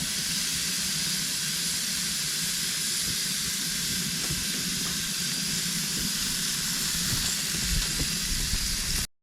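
Deer tenderloin, pork steaks and sausage sizzle on a grill, a steady, close hiss of frying with faint crackles running unbroken throughout.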